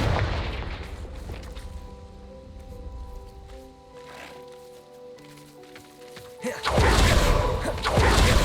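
A Confringo fire spell blasts in Hogwarts Legacy, a sudden loud burst near the end that follows a stretch of tonal game music and low rumbling.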